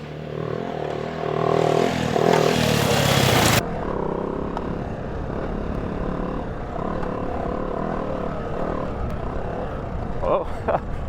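A motorcycle ridden through whoops with the rear suspension at maximum rebound, its engine roaring loudly for the first few seconds before settling into a steady, close drone with light clatter from the chassis.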